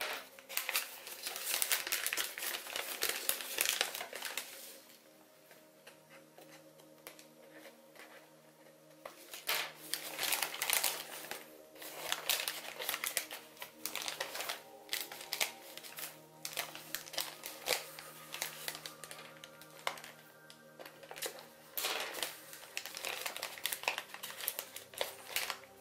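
Paper crinkles and crackles in close, busy bursts as a sheet is folded and collapsed into an origami dragon along mountain and valley creases, with near-continuous rustling and brief quieter pauses.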